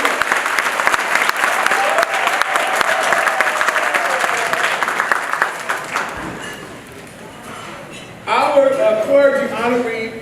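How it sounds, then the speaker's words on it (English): An audience at a scholarship gala breaks into a sustained round of applause for about six seconds, dense and fairly loud, then it fades and a voice begins speaking over a quieter room. "give this man another round of applause"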